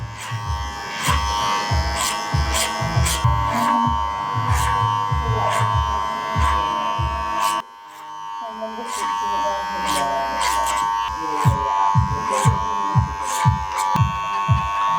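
Electric hair clippers blending a fade on a first haircut after a DIY buzz cut, buzzing steadily in rapid rhythmic passes with a brief pause midway, close and loud, with someone talking over the work.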